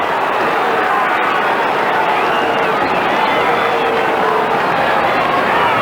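A dense, roaring crowd cheers a St Kilda goal against Adelaide at a 2003 Australian football match, loud and sustained throughout with no break.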